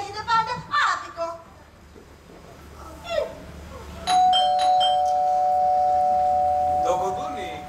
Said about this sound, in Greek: Το κουδούνι, κάποιος είναι.